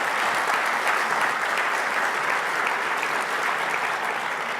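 An audience at the opening session of a Stanford early childhood center launch gives a sustained round of applause, a thick, even wash of many hands clapping at steady volume from start to finish.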